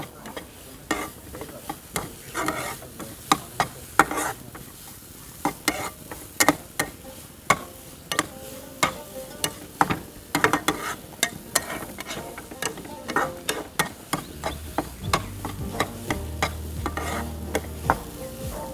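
Stuffed banana filling frying in a pan with melting sugar, stirred steadily: repeated sharp scrapes and clicks of a spoon against the pan over a soft, continuous sizzle, close and fairly quiet, with no talk.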